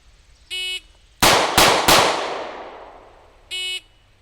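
Three rapid handgun shots from a 940 fired at 5 yards, sharp loud cracks with ringing decay, bracketed by two short electronic shot-timer beeps, one before and one after.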